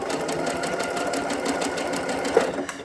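A sewing machine runs steadily up close, stitching across an applique test piece, one continuous mechanical whir with a small click near the end.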